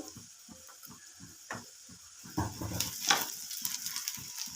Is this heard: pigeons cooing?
no